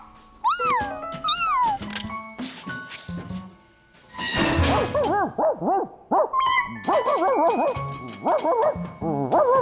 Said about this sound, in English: The bark stopped.